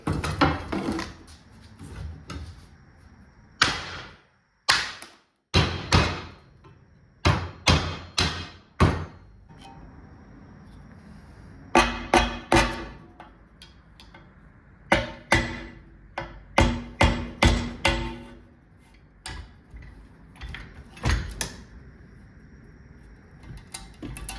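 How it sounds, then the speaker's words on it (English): Repeated sharp hammer strikes on a metal part in irregular bursts, some single blows and some quick clusters, with quiet gaps between them. "I'm gonna see if I can just whack it with a hammer"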